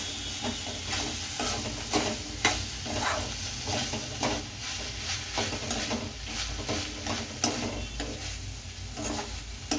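Telaga flour and chana dal curry is stirred in a pan, the spoon scraping in a steady, repeated rhythm over a constant close sizzle with no talking.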